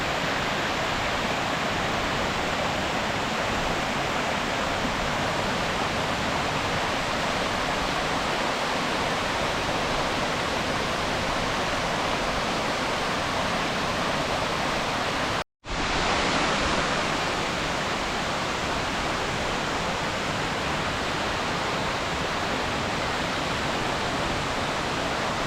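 Upper Rawana Falls in Sri Lanka pours as a dense, unbroken roar of falling water, loud and close throughout, with one brief dropout partway through.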